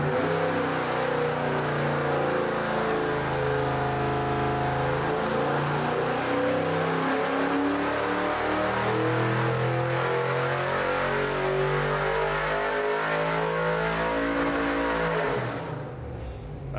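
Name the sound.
junkyard 5.3 LS engine revving during dyno pull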